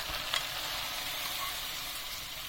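Onions with madımak sizzle and fry steadily in a pan, a continuous dense crackle at moderate level with no voices.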